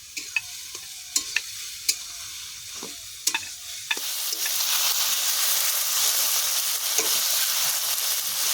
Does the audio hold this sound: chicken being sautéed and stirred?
yes